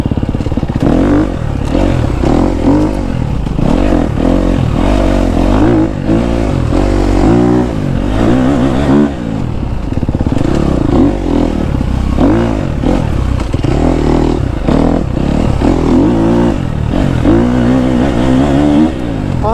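A KTM 250 SXF four-stroke dirt bike rides through a summer forest, its engine droning loud and close the whole time with constant revving, throttle surges and mechanical clatter, no voices.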